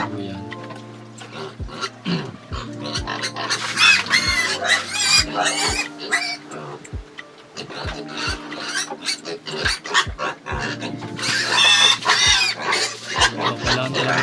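Pigs on a farm, alongside chickens and dogs, grunting and oinking busily and fairly close, with scattered clucks and short sharp thumps, no talking.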